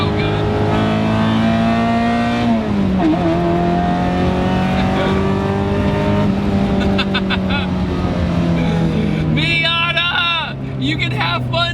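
A Mazda Miata roadster swapped with a Chevy Equinox engine drives along, its steady loud engine drone shifting pitch as it changes gear and pulls away, with people talking over it and a brief tire squeal near the end.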